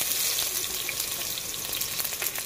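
Onion frying in oil for gourmet tuyo: a steady, close hiss and crackle of sizzling that runs unbroken from start to finish, with no voices.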